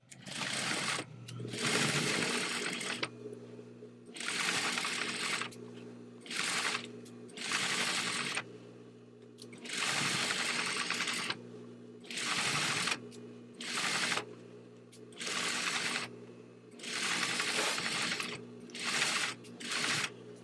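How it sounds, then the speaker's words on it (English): A sewing machine stitches across a line of padding and batting for an 18th-century bum pad, running in repeated bursts of a few seconds each with short pauses between them. "So I'm just going to stitch across this line."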